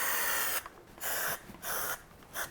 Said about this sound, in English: spray adhesive all the way round